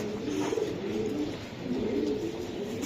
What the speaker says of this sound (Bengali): এটা একটা রেস করা কবুতর